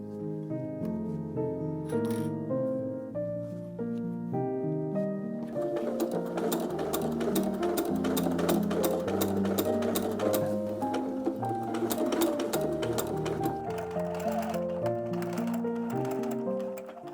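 A sewing machine runs steadily while stitching costume side panels onto a superhero outfit, a rapid mechanical ticking hum that grows busier and louder partway through and continues without talk.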